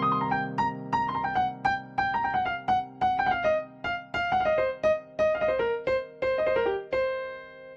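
Piano running a blues scale slingshot figure that includes the blue note, rapid descending note clusters repeated over several seconds, ending on a sustained ringing chord, solo with no voices.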